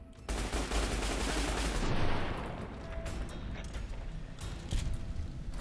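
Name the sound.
gunfire from the video game Fallout New Vegas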